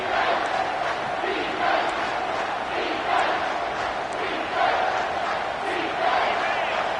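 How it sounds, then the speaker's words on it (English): A roaring crowd in a video game college football stadium swells on third down to rally the defense, a steady wall of cheering with rhythmic surges while a commentator's voice runs over it. "this crowd will blow out a vocal cord to help this defense"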